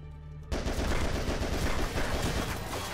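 After half a second of quiet, gunfire from Goldeneye: Source breaks out in a loud, dense, continuous rattle of rapid shots that keeps going to the end.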